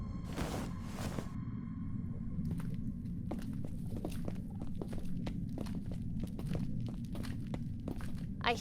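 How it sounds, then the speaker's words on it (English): Heavy, slow footsteps thud one after another over a low rumbling drone, with a couple of louder impacts near the start, all without voices. "Heavy footsteps behind me"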